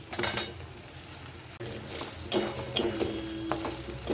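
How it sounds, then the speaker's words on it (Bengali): Boiled cut potatoes being stirred into spice masala frying in a pan, with a spoon scraping and clinking against the pot over a soft sizzle in a few separate bursts. "আলুটা দিয়ে মশলার সঙ্গে একটু ভালোভাবে মাখিয়ে নেব"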